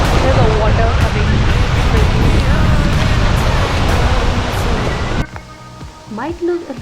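Rushing waterfall water in Meghalaya roars as a loud, dense, steady wash of spray and wind buffeting close by, then drops away abruptly near the end as voices speak over quieter background.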